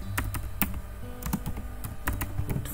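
Fingers type on a computer keyboard to enter a material name in 3ds Max, giving quick, irregular clicky keystrokes, close and moderately loud, with no talking.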